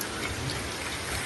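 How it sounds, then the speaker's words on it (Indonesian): Steady rain falls in a forest at Bili-Bili, a dense, even hiss of drops with no pauses or voices across the short stretch. "sementara ini cuacanya seperti ini, sedang hujan"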